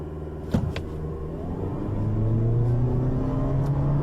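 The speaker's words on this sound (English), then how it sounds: "So let's go ahead and see what we can get 0 to 60 wise in this car." A front-wheel-drive Toyota Prius pulls away from a brake-torqued standstill, its engine and motor drone rising steadily in pitch as it accelerates hard toward 60 mph, after a short thump near the start; no one speaks.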